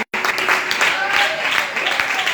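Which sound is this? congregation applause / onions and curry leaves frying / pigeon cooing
congregation applause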